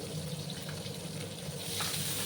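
Chopped onions with spices frying in hot oil for an egg and pointed-gourd dish, a steady, dense sizzle that stays even and close throughout, with faint stirring and no talk.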